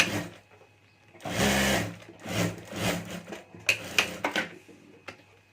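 A sewing machine stitches the lining of a clutch purse in several short close bursts, the longest near the start, with brief pauses between.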